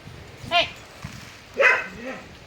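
Two dogs on a village farm bark playfully, two short yipping barks about a second apart over quiet outdoor background.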